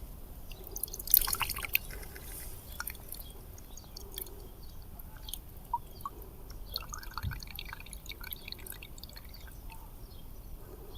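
Freshly extracted coconut water drips outdoors in scattered, soft, irregular drops over a low, steady background hiss, with no talking.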